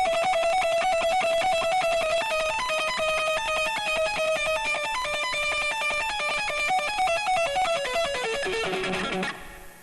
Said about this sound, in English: the effect I do with the delay